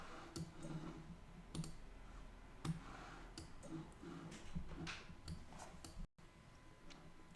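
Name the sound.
computer mouse clicking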